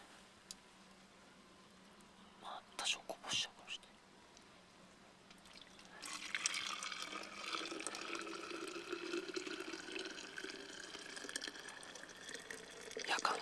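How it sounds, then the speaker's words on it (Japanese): Hot water pours into a wide-mouth Nalgene bottle at a winter campsite, a few light clinks and then a steady gurgling fill that rises in pitch, close by. "これにねお湯を注いで湯たんぽを作ろうと。"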